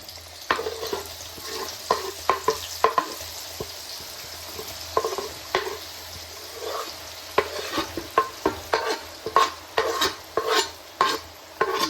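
Sliced banana sizzles in hot oil for Kerala-style chips, a steady frying hiss punctuated by repeated sharp pops and scraping stirs that grow denser toward the end, close and without speech.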